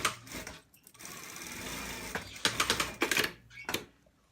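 A sewing machine stitches a boy's shirt in short runs, its rapid mechanical whir starting and stopping several times at close range, with brief pauses between bursts.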